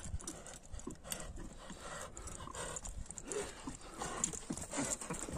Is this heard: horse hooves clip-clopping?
yes